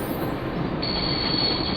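A train in the Broken Sword adventure game rumbles steadily on its rails, a loud continuous roll with a high metallic wheel squeal setting in partway through as it is brought to a stop.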